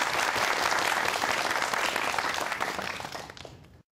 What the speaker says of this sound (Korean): 큰 박수로 맞이해 주십시오